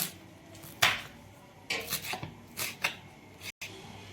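A knife finely chops coriander leaves on a board in a home kitchen during chicken preparation. Irregular sharp chopping strikes come in small clusters, close and clear, with no speech.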